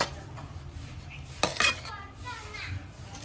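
Sugar is mixed into rava laddu mixture in a metal pot, giving faint scraping and a sharp clink of a spoon against the rim midway, with soft background voices and household noise.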